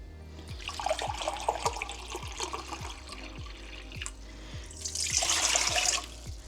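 Water runs steadily from a tap into a measuring cup, about 4 cups for a salt brine, splashing and gurgling, with a louder, hissing surge near the end; a rhythmic low thumping repeats underneath.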